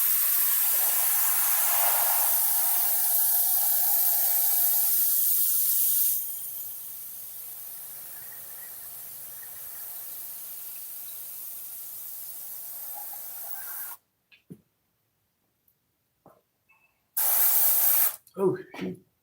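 Spray paint hissing from a can onto a black and white painting, a loud sustained spray that drops to a softer hiss midway, then stops, with brief short bursts near the end.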